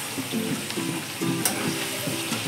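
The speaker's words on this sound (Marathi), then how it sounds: "आता भाजी टाकून व्यवस्थित परतून घेऊयात।" Chandan batwa greens sauté in a hot pan with a continuous sizzle. Rhythmic, repeated stirring strokes scrape through the greens about twice a second.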